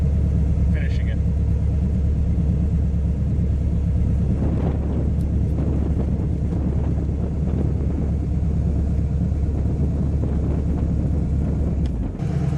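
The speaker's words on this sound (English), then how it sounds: "The car sounds great from any angle, especially from the rear." A Manta Mirage kit car's engine runs with a steady low rumble throughout, mixed with wind buffeting on the microphone, the engine note rising a little in the middle.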